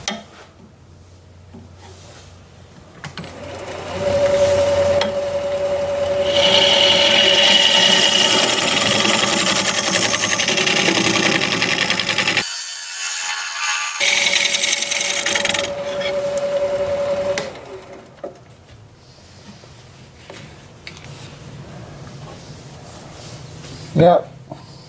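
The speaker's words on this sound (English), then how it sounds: "I'm going to see what kind of damage I can do with my scraper" A scraper cuts a large gnarly wood burl spinning on a lathe, giving a loud, continuous rasping grind that pauses briefly midway and then resumes, with the lathe's hum underneath and a voice talking at the start and end.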